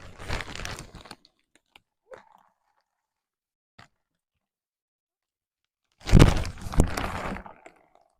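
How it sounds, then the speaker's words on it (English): Potting soil is added to a container planting of Supertunia Tiara Blue petunias, giving two close bursts of gritty crunching and bag crinkling separated by several seconds of near silence with a few faint ticks. "now we just need to add some more soil to our pot"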